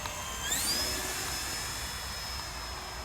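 An E-flite Turbo Timber Evolution RC plane flies in winter with a steady, whining motor tone that rises in pitch early on and then holds level, fairly close and continuous, with no talking.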